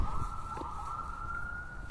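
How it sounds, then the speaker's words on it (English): A fire truck's siren wails steadily along a road during a morning walk, a continuous high tone rising slightly, moderately distant and holding for the whole stretch over low traffic rumble. "There's a fire truck driving down the road with his lights on. Oh, he just put a siren on."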